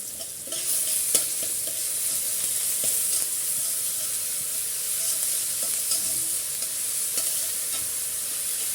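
Onion fries with ginger garlic paste in a hot pan, giving a bright steady hiss and sizzle, broken by intermittent scraping clicks as a spoon stirs the mixture.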